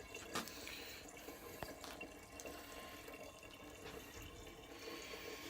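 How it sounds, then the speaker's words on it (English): Cider juice runs from a small tap into a pair of glass demi-johns, a steady close trickle and splash of liquid with no voices over it. "the 10 litres should fill up both of these demi-johns"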